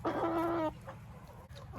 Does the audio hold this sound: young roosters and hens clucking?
yes